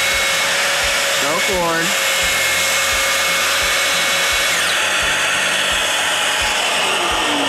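A power saw makes a plunge cut through a cabinet panel while building a kitchen sink base: a steady, loud motor whine with a brief pitch sweep, and someone speaks briefly over it.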